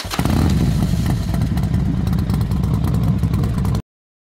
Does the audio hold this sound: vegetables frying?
no